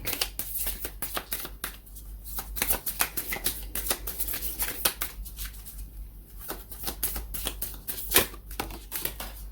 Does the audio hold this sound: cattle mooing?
no